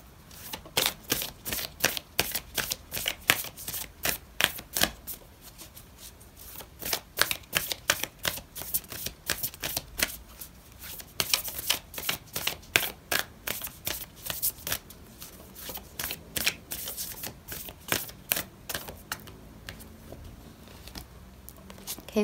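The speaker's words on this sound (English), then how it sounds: "I'm going to pull out an oracle card for you" Oracle cards shuffled close and loud in a steady run of rapid riffling flutters and soft slaps, each burst breaking into dense papery clicks, continuing almost without pause and with no talking.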